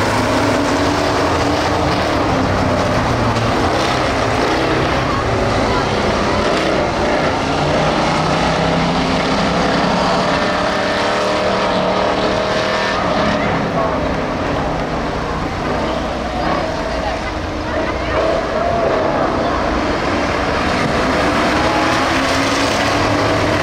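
A pack of Jr. Crown Vic race cars starts a 10-lap feature race on a dirt track, a loud, sustained, blended roar of engines that rises and falls slightly without a break.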